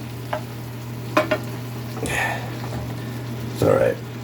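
Liver and onions frying in a pan, stirred with a spoon: a few soft scraping bursts over a steady low sizzle, with a person talking nearby between strokes.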